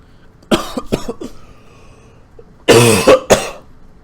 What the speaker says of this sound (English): I had a little cough attack there